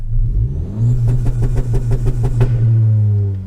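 A Honda car accelerates hard, its mid-pitched engine climbing through the revs with a rapid pulsing exhaust note, then easing off with a small pop near the end, heard from inside the car.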